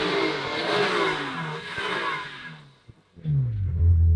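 A budget Ferrari engine with an upgraded exhaust revs hard, a loud, rasping roar that fades briefly before a deep, booming rev surges back in, with no talking.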